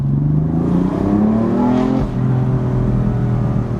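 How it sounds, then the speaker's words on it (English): BMW M4 in sport plus mode with its engine droning steadily and rising in pitch, a brief dip near the middle as it shifts, and the exhaust crackling and popping faintly under the engine note. "In sport plus, you get those pops."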